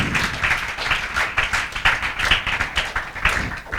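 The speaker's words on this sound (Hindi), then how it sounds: "यस सक्सेना भैया के लिए जोरदार तालियां" Students in a classroom clap together for a classmate, a dense, steady patter of many hands applauding close by for several seconds without speech.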